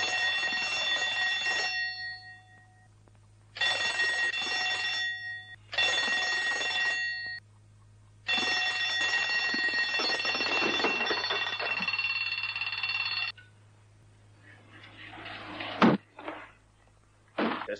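An alarm clock in a film scene rings loudly in several long bursts separated by short pauses, then falls quiet before a brief clatter and a few faint knocks.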